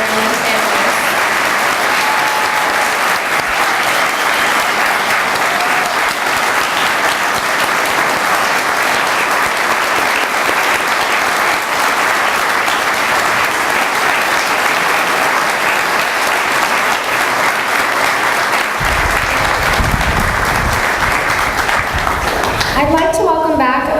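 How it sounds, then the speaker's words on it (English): Sustained, loud applause from the audience at a Connecticut Fallen Heroes Foundation event fills the room for honorees and their families, steady and dense throughout before a voice begins to speak at the very end. "Let's give one more round of applause for all our honorees this year and their families."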